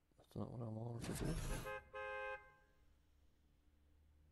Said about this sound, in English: Someone fucking honking at me?